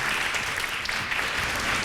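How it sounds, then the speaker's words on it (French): Audience applause at a professional workshop meeting, a dense, steady clapping from a group filling the room throughout. "On peut l'applaudir, en effet."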